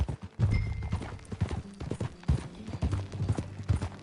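Steady clip-clop of horse hooves at a walking pace in Red Dead Redemption 2, close and rhythmic, with faint ambient noise behind.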